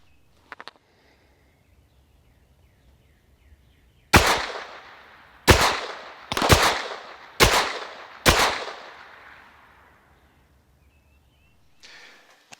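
A Gen-3 Kel-Tec Sub 2000 carbine fires five loud, sharp shots at an outdoor range from 25 yards, spaced about a second apart, each echoing briefly before fading into quiet.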